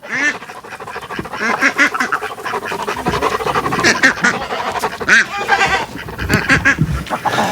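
Indian runner ducks quacking loudly and continuously at close range, a dense overlapping chorus of nasal calls from several birds with little pause, no voices.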